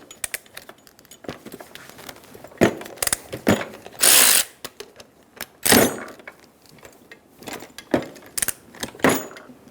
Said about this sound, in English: Using a 14mm socket, remove the 2 bolts.